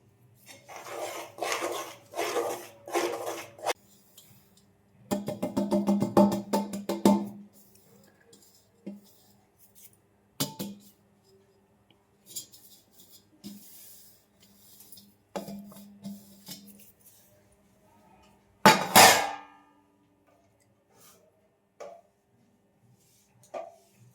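A spoon scrapes and stirs a thick sesame, peanut and jaggery ladoo mixture in a pan, giving repeated rasping, rubbing strokes in uneven bursts with occasional metallic clinks and short pauses between.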